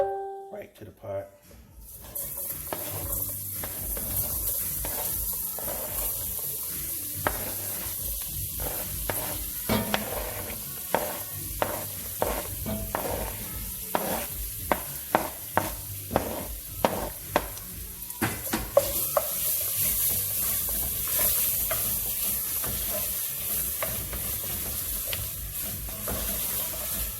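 Chopped onion, celery and bell pepper sauté in a gumbo pot with a steady, close hiss and sizzle, punctuated throughout by repeated sharp clinks and scrapes of a spoon stirring the vegetables; no voices are heard.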